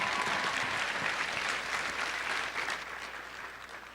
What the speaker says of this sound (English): So a round of applause for Alexia, please.